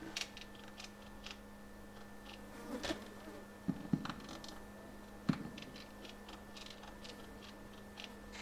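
Flies buzzing in the video game Fear and Hunger, a faint steady insect drone with a few soft clicks in a quiet scene, no talking.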